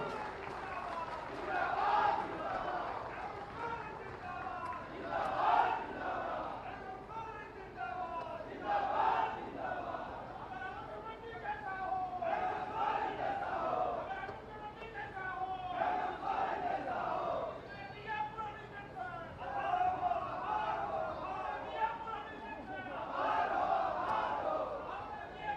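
A large crowd at an outdoor government pension scheme awareness rally with the chief minister cheers in repeated rhythmic swells, loud massed voices rising and falling in waves throughout.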